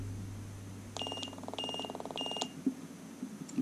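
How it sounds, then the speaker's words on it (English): A Cycliq Fly6 bike camera, which has stopped working, gives three short electronic beep bursts when its power button is pressed, each a rapid buzzy tone. They come up close against a quiet background hum, followed by faint clicks. "You heard the beeping, you heard the clicking."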